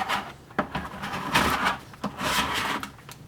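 Leftover clay slip scraped out of a bucket with a tool, giving a few rough, irregular scrapes and rubs, fairly faint and close, with no talking.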